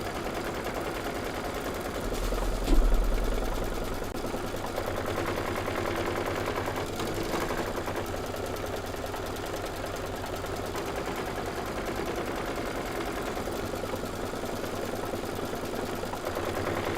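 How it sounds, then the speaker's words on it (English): Embroidery sewing machine running a satin stitch, a fast continuous mechanical whirr and needle chatter at low, steady level, with a brief louder thump near the start. "then we're going to do the satin stitching."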